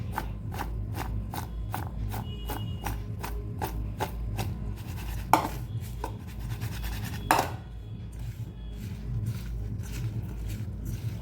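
Mango pieces being stirred with turmeric and salt in a bowl make a steady run of close, evenly spaced scraping rubs, with two sharper knocks partway through over a low background hum.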